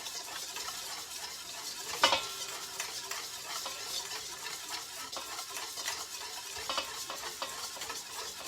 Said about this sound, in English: So you gotta keep up the whisking and keep up the steady stream of olive oil.